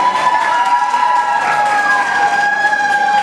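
An audience at a fan get-together applauds and cheers, steady loud clapping with a sustained whistle-like tone running through it.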